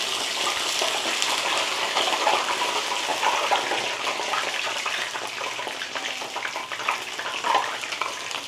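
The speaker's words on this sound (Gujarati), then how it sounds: "ચાલો તો આપણા ભજીયા ફ્રાય થાય છે." Bhajiya fritters frying in hot oil give a steady, dense sizzling hiss that runs unbroken throughout, fairly loud and close, with small crackles rising out of it.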